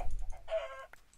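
Chickens clucking in the Minecraft video game, a short burst of a few clucks heard close and alone.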